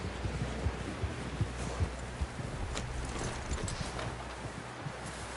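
Hooves clip-clop steadily on a horse in Red Dead Redemption 2, a low rhythmic thudding of footfalls running through the whole stretch under a soft, rustling ambient bed, with no voices.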